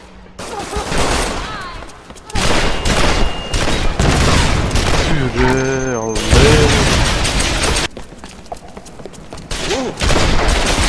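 A minigun in a video game fires in long sustained bursts, a dense rapid roar of shots that fills most of the stretch, with brief pauses and game sounds between volleys.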